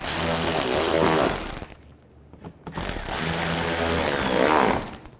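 Power tool driving screws into the lower shield of a 2011-2014 Chrysler 200 during a drive belt job: two loud, whirring bursts separated by a short quiet pause.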